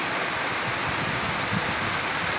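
Heavy torrential rain pours down in a dense, steady roar of close hiss with no pauses, loud and continuous throughout.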